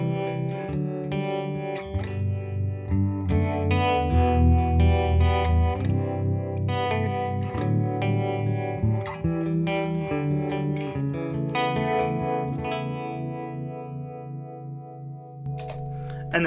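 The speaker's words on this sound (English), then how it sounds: "I use the trem a lot." An electric guitar plays sustained chords through a tremolo pedal, a pulsing, wavering volume effect that shimmers steadily throughout, no voices.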